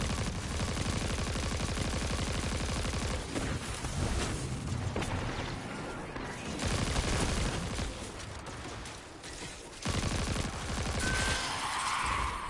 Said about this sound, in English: This auto rifle actually feels really good.